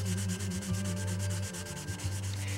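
Folded sandpaper rubs back and forth along the painted edge of a silver model plane in a quick, regular rhythm of soft, close scratchy strokes.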